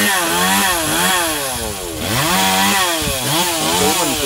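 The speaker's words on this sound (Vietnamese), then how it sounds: "Rồi chú mình bắt đầu lấy cái cưa cưa" A Stihl-style G4200 chainsaw cuts small branches from a yellow-flowered acacia (tràm bông vàng) tree, its engine loud and close, the pitch rising and dropping in repeated revving strokes as the chain bites.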